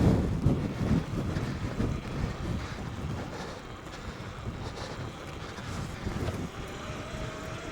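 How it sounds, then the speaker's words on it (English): Strong wind buffets the microphone on an exposed mountain peak during a night ride on a Talaria electric dirt bike, a steady loud low rumble with gusty swells throughout and no talking. "It is windy up here."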